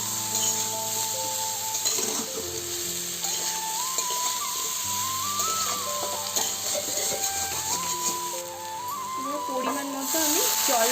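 Potatoes with salt and turmeric are stirred and fried in a pan, a steady close sizzle with scraping stirs running under background music throughout.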